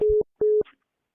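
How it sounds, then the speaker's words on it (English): A phone ringback tone heard during a call: two steady electronic tone bursts about 0.2 seconds each, separated by a short gap, loud and close with no talking. "big ringtone going on here"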